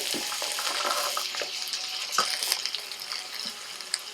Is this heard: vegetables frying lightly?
yes